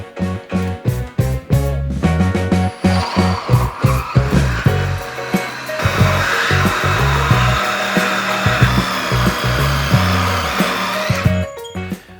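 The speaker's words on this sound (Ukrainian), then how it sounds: "Тепер замінимо пильне полотно на полотно для роботи з металом" A VITALS reciprocating saw fitted with a metal-cutting blade bites into metal in short rhythmic bursts, then settles into one sustained, loud buzzing cut before stopping, close up with no voices.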